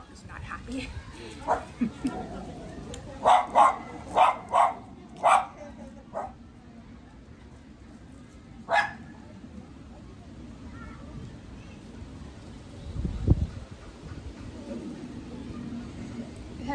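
Dog barking at people walking by, a run of sharp, evenly spaced barks early on, then a lone bark, later a low whimpering whine, with quiet background stretches in between.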